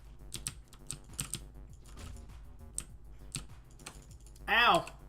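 Quick bursts of computer keyboard key presses while a video game is played, close and crisp, ending with a short rising vocal exclamation.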